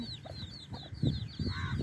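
Hens cluck in short, repeated bursts near their young chicks, with thin high chick peeps scattered over the top; close, busy and without talk.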